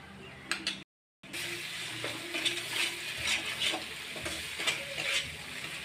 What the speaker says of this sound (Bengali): সর্ষেটাকে ভালো করে মিক্স করে নেব, একটু ভাজা ভাজা করে নেব।